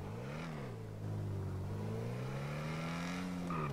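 Ocelot Jugular sports car in GTA Online, its engine idling low and then rising into a sustained, loud rev that swells and holds with a smooth droning tone.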